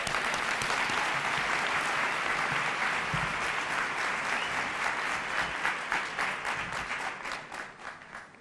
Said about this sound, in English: So big round of applause for Mayor Jackson